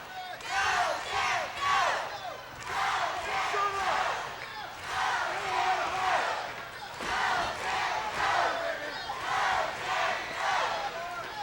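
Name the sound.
wrestling crowd cheering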